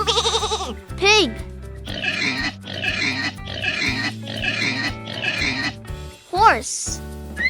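Pig oinks and grunts come in a rapid series of five rough, snorting bursts, fairly close, framed by short whistle-like sweeps at either end.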